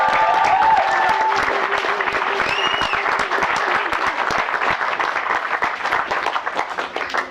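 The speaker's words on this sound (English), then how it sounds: "Everyone's going to give you a huge round of applause." At a comedy magic show at a Seventh Day Adventist camp, the audience gives a returning volunteer a long round of dense, steady applause with a few whoops mixed in, tapering slightly toward the end.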